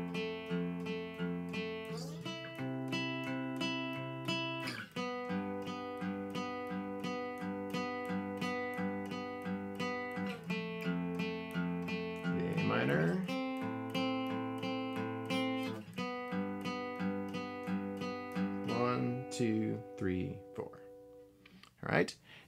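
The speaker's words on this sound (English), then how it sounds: "So one more time, that first verse is going to sound like this." Acoustic guitar strumming the first verse of a worship song, a steady rhythmic chord pattern with ringing harmonics, close and clear, played alone for a long stretch.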